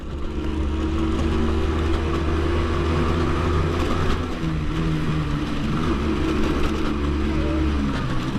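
A motorcycle engine, a rider's first bike, runs loud and close the whole time, holding a steady throaty drone with slight swells of revving and no talking.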